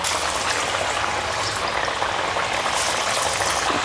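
Parippu vada, lentil fritters, frying in hot oil, a dense, steady bubbling sizzle heard close and continuous without pause.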